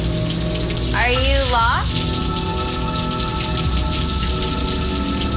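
Steady heavy rain pours down in a broad, constant hiss with no gaps, while a voice speaks briefly near the start.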